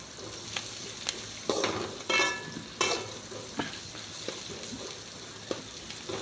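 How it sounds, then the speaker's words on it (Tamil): Chopped onions sauté in a pan, a quiet frying hiss broken by irregular scrapes and stirring knocks of a spoon, close and alone. "பெரிய வெங்காயம், நல்லா வெங்காயம் வதக்கட்டும்."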